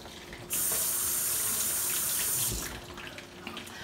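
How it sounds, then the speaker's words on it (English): Tap water runs steadily into a sink for a few seconds as hands are washed under it in a kitchen, a close, loud hiss that starts abruptly and then eases off to a quieter trickle. "I'm gonna wash my hands real quick."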